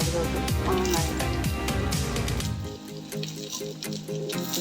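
Chopped mango tipped into a hot pan of sautéed onions, green chillies and curry leaves, giving a loud crackling sizzle that rushes up and then settles into a softer, steady frying hiss, with tonal background sound layered over it.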